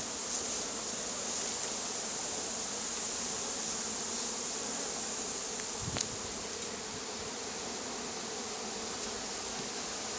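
Bees hum around polyurethane foam hives made in Sievierodonetsk, a dense and steady outdoor buzz that fills the whole stretch, with one brief knock partway through.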